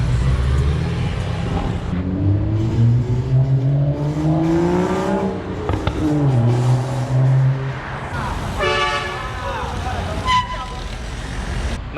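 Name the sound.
exotic sports car driving by in Miami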